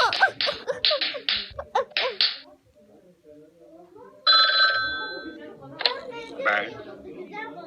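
A telephone in a cartoon gives one bright, electronic ring burst midway, between stretches of animated voices talking.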